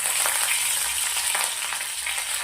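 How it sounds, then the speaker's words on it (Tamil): Mustard seeds, dried chilies and curry leaves temper in hot oil with a loud, steady close sizzle and faint crackling throughout, with no talking. "அடுத்து கொஞ்சோண்டு கடுகு, அப்புறம் காஞ்ச வத்தலும் கருவேப்பிலை மட்டும் போட்டு நம்ம இதை தாளிக்கிறதுக்கு யூஸ் பண்ணிக்கலாம்."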